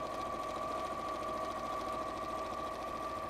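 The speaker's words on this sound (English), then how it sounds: "So you're stitching all the way around" A sewing machine stitching around a rabbit softie gives a steady, continuous mechanical whir with a constant pitch, close and moderately quiet, with no voices over it.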